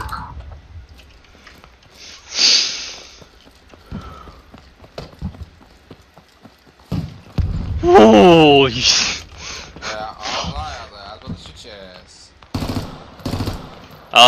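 Machine gun fire from an MG emplacement in the military shooter game Squad, with short bursts and scattered shots between stretches of radio chatter and talking voices, loud and up close.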